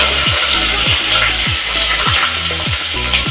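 Onion, pepper and cumin paste frying in a pan with dried red chillies, a loud, steady sizzle with a regular thumping pulse under it, close up and continuous, with no talking.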